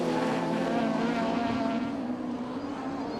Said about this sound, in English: The Lotus Exceed blasting its way now with the back skipping into the air back towards tarmac.